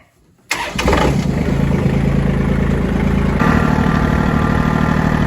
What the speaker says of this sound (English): Warming up the tractor.